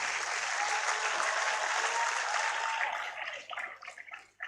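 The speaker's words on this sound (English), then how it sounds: "Another round of applause for the lecturer." Sustained applause from a large audience at a university inaugural lecture, steady and loud, then thinning into scattered claps before stopping.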